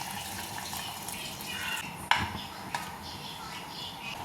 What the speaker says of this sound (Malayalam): ഇനി നമുക്ക് തേങ്ങയുടെ 1-ാം പാല് പാരാം